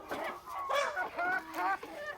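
Chickens kept in a rooftop coop cluck in short rising calls, several in quick succession, close and moderately quiet.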